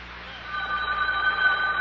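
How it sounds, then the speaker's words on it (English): A telephone rings with a steady, trilling electronic tone that continues throughout, moderately loud over a low background hum, in an old-time radio show. "Oh, telephone's ringing."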